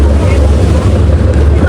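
Boat bound for Elephanta, a steady low engine rumble near at hand, mixed with wind buffeting the microphone and the wash of water.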